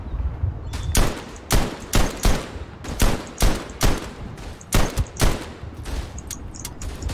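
Gunfire in the World War I video game Verdun: about a dozen sharp, loud rifle shots crack at irregular intervals, each one distinct, with faint distant battle noise between them.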